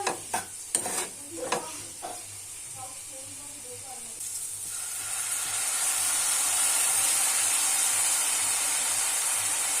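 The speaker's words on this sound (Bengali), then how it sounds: "এরপরে আমি আবার নাড়িয়ে নিচ্ছি" Cabbage manchurian seasoned with chilli powder is stirred in a pan: a few sharp spoon scrapes and clinks at first, then a steady, growing hiss of sizzling that continues to the end.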